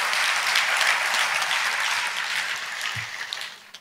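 A church congregation applauding during a Telugu sermon, a dense continuous wash of many hands clapping that holds steady and then slowly thins toward the end, fairly close and full, with no voices standing out.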